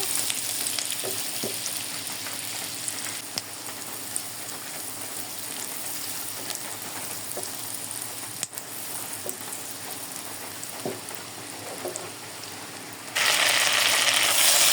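Onion lightly frying in a pan makes a steady broadband sizzle for about fifteen seconds, with a few faint clicks and clinks of utensils scattered through it and a sudden brighter, louder hiss near the end; no one speaks.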